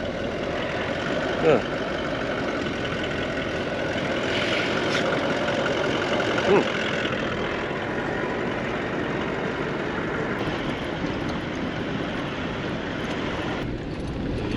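A 4x4 towing a trailer crawls slowly along a badly corrugated single-track road, giving a steady broadband engine and rattling road roar that holds at a constant level throughout, with a couple of brief louder bumps.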